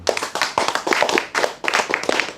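Audience at a religious lecture claps hands in an uneven patter of sharp, close claps from a small group, continuing throughout without speech.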